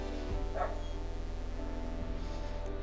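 A dog at the Chorzów animal shelter gives one short, fairly faint bark over a constant low hum, then quiet room noise follows.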